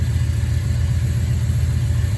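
A 1965 Ford F100 engine idling during a timing adjustment: a steady, continuous low rumble close by, even and unbroken, with no voices.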